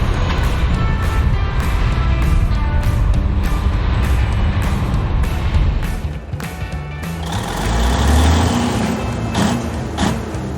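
A wheel loader working on a construction site gives a loud, continuous engine rumble that drops briefly midway, then swells again, with faint high tonal whine and scattered clanks over the drone.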